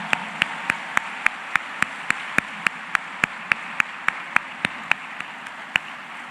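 At an agronomy graduation ceremony, the crowd claps in steady unison, sharp even beats about four per second over a low hum of background noise.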